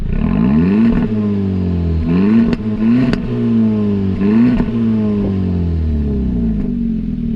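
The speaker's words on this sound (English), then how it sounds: "you will also see that chrome tip exhaust. And you know what? You got to listen to it" Loud, close revving from a 2020 Hyundai Elantra Sport's factory chrome-tip exhaust in repeated bursts, each rise in pitch followed by a fall back to a steady burble, with sharp crackles between revs.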